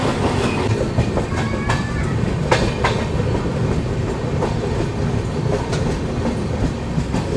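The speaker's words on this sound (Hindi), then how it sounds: "अभी अपनी ट्रेन निकल रही है।" Lucknow-Raipur Garib Rath express train rolling along the rails, a steady loud rumble with repeated clickety-clack wheel beats over joints, heard continuously from on board with no voices.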